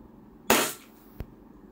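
A single sharp gas-powered shot rings out from an EMG STI John Wick 3 airsoft pistol, close and loud, followed by a faint click a moment later.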